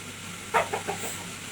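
Farmyard poultry on a homestead give a few short clucks in quick succession, moderately close against quiet outdoor background.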